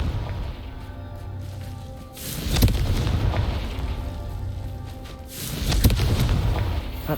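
Confringo fire spell explosions in the Hogwarts Legacy video game, two heavy booming blasts a few seconds apart, each with a rumbling tail over a low steady background.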